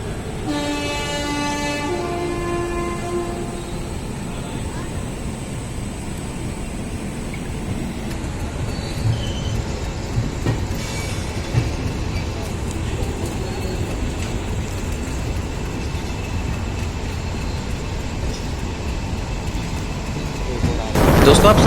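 The Sampoorna Kranti Express departs at night, heard up close with a steady, loud rolling rumble and a horn blast at the start, as the train pulls out.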